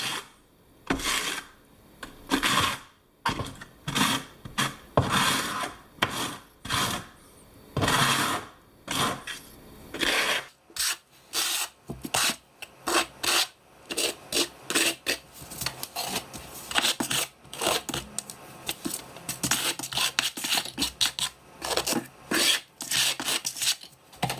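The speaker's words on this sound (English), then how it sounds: "So I'm using a 1/4-inch square notch trowel here." A 1/4-inch square notch trowel spreads Apollo modified thinset, making repeated close rasping scrapes in steady strokes with short gaps between them.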